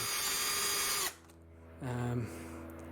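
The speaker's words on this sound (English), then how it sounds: "So I'm gonna have to drill this out like so." A power drill whirs loudly drilling out a corroded screw on a 2005 Honda Jazz front brake, stops briefly, then spins up again in a short second burst before winding down.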